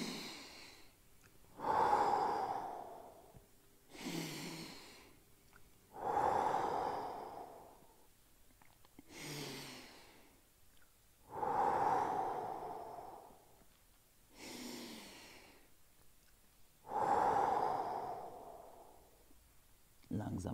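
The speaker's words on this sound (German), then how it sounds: "jetzt atmen wir da fünfmal im Bauch rein" Slow, deep belly breaths during a stretching workout, about five long inhale-exhale cycles with audible airy rushes through the nose and mouth, close and fairly quiet, with faint spoken instruction between breaths.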